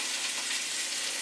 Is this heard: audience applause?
no